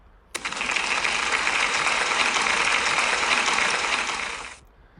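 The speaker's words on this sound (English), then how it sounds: "can we give Lorenzo a big round of applause as well, please?" A school celebration audience applauds a pupil: a sudden burst of dense, even clapping that holds steady for about four seconds and then fades.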